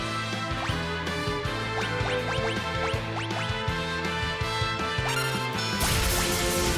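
Thunderbolt spell effect in Final Fantasy IV: a rapid series of sharp crackling zaps and whip-like strikes over looping game music, ending in a bright noisy burst.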